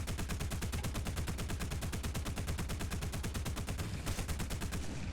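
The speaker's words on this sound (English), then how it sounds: "We use the cannons to break ourselves here." Rapid sustained cannon fire from an IL-2 ground-attack aircraft in War Thunder, a loud, evenly spaced burst of heavy shots hammering continuously for several seconds with no pauses.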